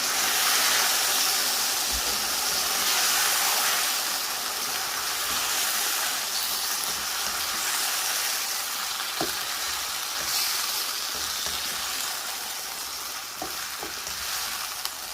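Chicken jalfrezi frying in a pan as three small tomatoes are stirred in, with a steady, fairly loud sizzle running throughout and a few sharp scrapes of the utensil against the pan.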